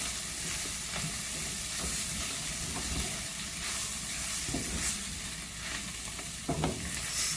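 Jamaican pumpkin takari sizzling and frying in a pot while being stirred, a steady hissing crackle with scraping stir sounds throughout, close and continuous with no talking.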